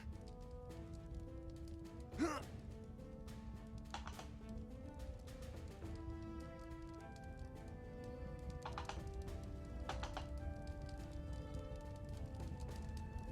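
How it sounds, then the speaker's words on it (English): Steady clip-clop of coconut hoof sounds in a video game, plodding in a regular rhythm, with a faint tonal music bed underneath and occasional sharper taps. "Somebody have coconuts? Is that what I'm hearing?"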